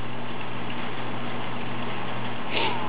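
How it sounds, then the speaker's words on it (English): Rain falling outside a back porch makes a steady, even hiss with a low hum underneath; it continues without a break and no one speaks. "I'm on the back porch and it's raining."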